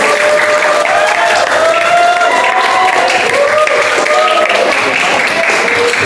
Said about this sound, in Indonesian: Berikan tepukan yang gemuruh untuk Pak Tuan.